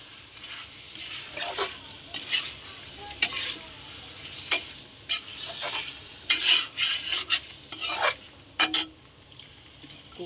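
Mutton and potatoes sautéing with spices in a pan crackle softly beneath repeated scraping and clinking of a metal spoon against the pot, close and intermittent.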